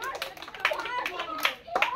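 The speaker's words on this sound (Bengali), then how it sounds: "হাততালি হবে সবার" An audience claps in short bursts during a blindfolded balloon-bursting challenge, the claps uneven and moderately close, with a voice and other speech mixed in.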